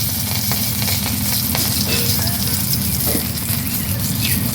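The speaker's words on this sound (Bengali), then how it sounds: "এই তেলের মধ্যেই দিয়ে দেবো দুটো শুকনো লঙ্কা ফোড়ন" Two dried red chillies crackle and sizzle loudly in hot oil in a kadai, a dense, steady frying hiss filling the whole moment without pause.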